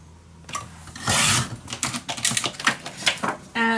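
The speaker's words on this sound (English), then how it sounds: "let's grab another page and let's cut this at 10." A short run of rapid scraping, clicking strokes comes from a paper trimmer cutting through a page of Ciao Bella patterned paper. The cuts are close and fairly loud, with a brief sliding swish before them.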